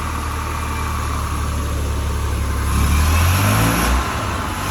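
Rover SD1 2600S engine running steadily after repair, a close, loud even hum that rises briefly in pitch as it is revved before settling back, with no voices.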